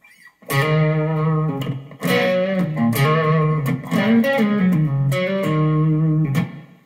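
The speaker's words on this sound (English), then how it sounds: "It's just spring sound." Electric guitar chords played through a modified Boss RV-series spring reverb pedal, each strum ringing out with a splashy, lingering tail.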